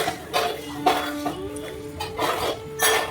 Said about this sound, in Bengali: এই যে এখন ধুয়ে নিচ্ছি বেসিনে সমস্ত বাসন কটা